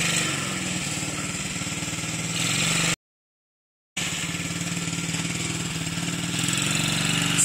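A vehicle engine runs steadily while being driven, a constant loud drone close by, cut by a full second of silence partway through and then resuming at the same pitch.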